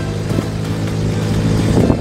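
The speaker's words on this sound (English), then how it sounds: "Isn't it always fun to ride in the back of a truck?" Steady engine rumble and wind buffeting from the open back of a moving truck, loud and continuous with a few bumps, no talk.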